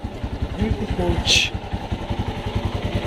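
A motorcycle engine idles after a cold start with a steady, rapid chugging pulse close by, and a brief hiss rises partway through.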